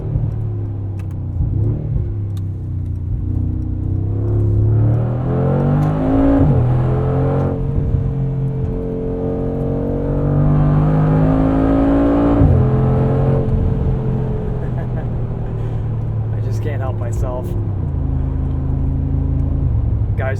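A 2020 Mercedes-AMG G63 SUV's engine revs and pulls hard through a corner, a loud, close, rising rumble with gear changes under a continuous drone.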